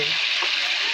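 Meat frying in a pan, a dense, even hiss of sizzling oil held close and loud for a brief moment.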